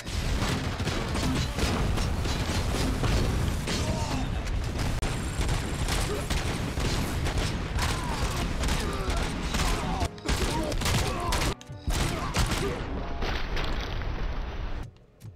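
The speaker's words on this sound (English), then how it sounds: "This grenade launcher to wreak absolute havoc." Chaotic combat in the video game RoboCop: Rogue City, with grenade launcher explosions and heavy gunfire booming almost continuously and loudly throughout, with brief drops around the middle, under what sounds like occasional talk.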